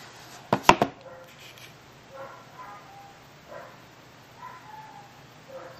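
Dogs outside give a quick cluster of sharp barks, followed by fainter, scattered yips and whines that sound somewhat distant against quiet background noise.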